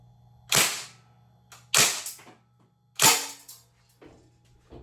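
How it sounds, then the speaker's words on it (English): An MP40 BB gun fires three single shots in a garage, each a sharp, close crack with a short rattling tail, spaced about a second apart over a faint low hum. "I know it's a BB gun, but first shots."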